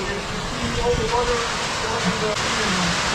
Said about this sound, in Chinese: 忽然间就倾盆大雨。